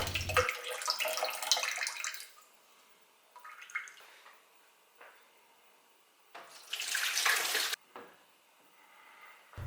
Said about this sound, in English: Now take the cartridge out and tip the water.